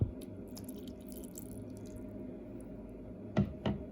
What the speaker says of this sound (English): So I'm gonna add my water